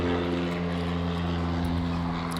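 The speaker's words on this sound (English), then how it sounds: "It's a beautiful plane." A propeller airplane passes near a downtown airport, its engine droning loud and steady with strong low harmonic tones throughout.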